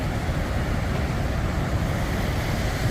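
Ocean surf washing steadily onto a beach on a calmer day, a continuous low rushing roar with wind buffeting the microphone and no distinct breaks between waves.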